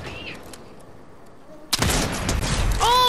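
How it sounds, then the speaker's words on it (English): A single sharp, loud sniper rifle shot in a video game cracks out after a quiet lead-in, followed by ringing, rumbling game noise and a brief whistling tone. "I just headshot sniped one of them"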